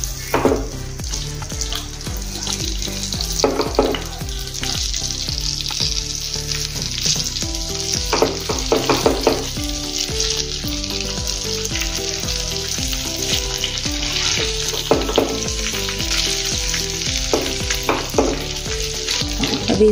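Spiced eggplant pieces frying in hot oil, a loud continuous sizzle with occasional stirring scrapes, heard close up under steady background music.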